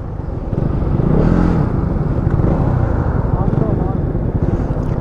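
A Yamaha MT 15 and a Bajaj Pulsar NS200 run a drag race in sixth gear. Close, loud engine drone swells at the start and holds under people talking throughout.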